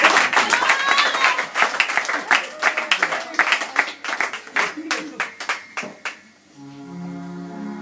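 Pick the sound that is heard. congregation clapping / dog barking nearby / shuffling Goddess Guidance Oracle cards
congregation clapping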